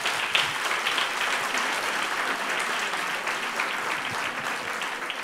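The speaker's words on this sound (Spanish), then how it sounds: "Pilar, ese aplauso." Steady audience applause at a children's reading-aloud contest, a continuous even wash of many clapping hands heard throughout.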